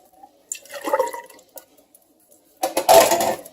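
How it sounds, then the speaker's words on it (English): Water splashing and sloshing inside an emptied tomato can as it is rinsed out in a home kitchen, a short burst of running liquid followed by a louder, fuller rush of water near the end. "I'm going to rinse out this can, pour it into the other cans, give them a good rinse"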